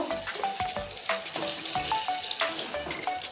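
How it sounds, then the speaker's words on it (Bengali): Pieces of rupchand fish fry in hot oil, giving a steady close sizzle sprinkled with sharp crackles and pops. No voices are heard. "আর যেখানে বাকি মাছ আছে এটা তেলে ছেড়ে দিচ্ছি।"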